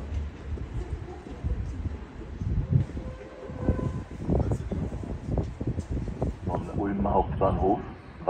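A train pulls into a German main station platform, a continuous loud rumble and rattle of wheels and cars with a faint whistle-like tone and a public address announcement over it.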